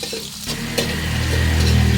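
Onion and garlic frying in a pan while beef steak is prepared; after a brief quieter moment a steady, fairly loud sizzle sets in and holds, with no voices.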